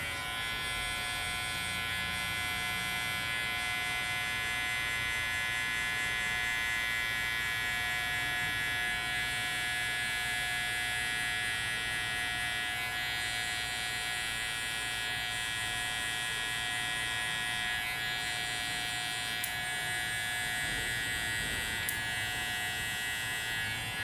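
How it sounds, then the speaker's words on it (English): An electric shaver buzzes steadily and close up during a taper fade haircut, a constant high-pitched motor whine with slight shifts as the blade moves across the head. "Now we're gonna go ahead and use that shaver."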